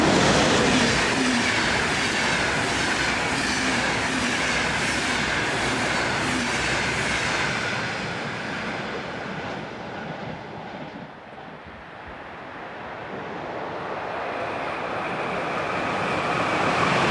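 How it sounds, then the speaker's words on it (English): An Austrian dual-voltage Taurus electric locomotive, number 1116035, hauls Eurocity EC25 from Köln past at speed, a loud sustained rush of wheels and carriages that dips briefly midway and then swells again. "Austrian dual voltage Taurus locomotive number 1116035 heads Eurocity train number EC25 from Köln"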